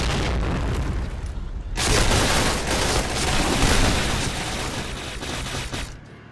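Video game gunfire erupts after a quieter moment, loud rapid bursts and booms continuing for several seconds before cutting off.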